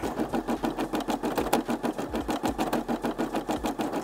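A Brother SE600 embroidery machine stitching an Ironman design, its needle hammering in a fast, steady mechanical rhythm with a faint motor whir, close and continuous with no talk.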